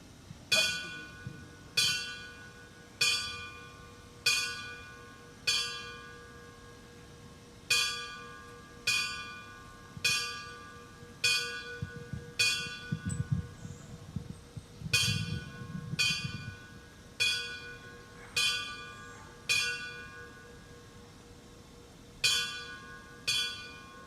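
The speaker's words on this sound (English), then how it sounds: "ringing the bells on behalf of our fallen" Memorial bell struck by a firefighter at a September 11th remembrance in Brookline, clear ringing strokes in sets of five with pauses between groups, each tone decaying slowly, faint crowd murmur underneath.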